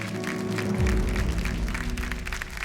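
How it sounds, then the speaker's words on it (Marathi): A crowd breaks into steady, dense applause, clapping that swells after a brief moment and carries on loudly to the end. "एकदा जोरदार टाळ्या झाल्या पाहिजेत आपल्या"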